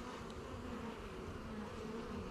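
Honeybees hum in a low, continuous drone around a hive frame during a queen check, the buzzing close, steady and fairly faint throughout.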